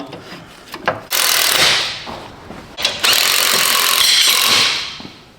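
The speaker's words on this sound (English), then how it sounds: "I'm gonna go ahead and just compress this down using a clamp" A clamp tightens down on the suspension of a Duramax truck to make room for a U-bolt, with loud ratcheting and grinding bursts, a short pause, then a second long stretch of close, harsh mechanical scraping.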